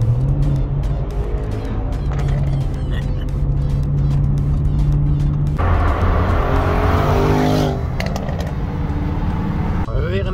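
An Audi RS6 engine runs loud and close, a deep steady rumble that shifts tone midway, and people talk over it.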